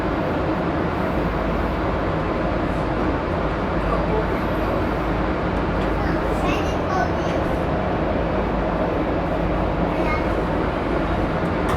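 A train at a Bay Area station rumbles low and steady throughout, with faint metallic squeals and background voices over continuous crowd and rail noise.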